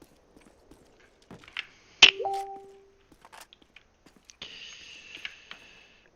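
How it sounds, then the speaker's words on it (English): Chiming computer notification tones from Facebook, a sharp ding followed by a sustained bright ringing tone a couple of seconds later, heard over faint clicks and background game sounds. "I'm sorry for Facebook sounds, guys, if you heard it."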